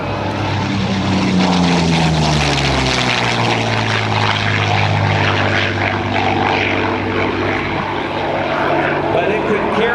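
A propeller-driven former light bomber with a rear passenger cockpit roars past at the 2009 AirPower Over Hampton Roads air show, loud and close, its engine pitch sliding downward as it passes while an announcer talks over it.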